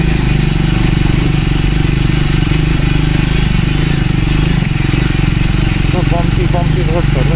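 A scooter engine drones loud and steady throughout, close to the microphone, as it rides along a slippery red-clay off-road forest track, with faint voices near the end.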